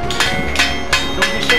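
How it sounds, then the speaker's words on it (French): A stone mason dresses stone by hand with a hammer at a traditional crafts fair in Vence, striking five sharp, ringing blows at an even, unhurried pace, close and loud. "Et c'est rectifié au poil, au marteau."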